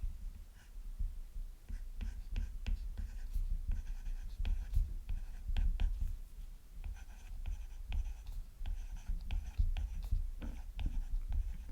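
A pen scratches steadily across paper in continuous close strokes with small taps and pauses, under low room rumble, while a teacher works through a vocabulary workbook exercise.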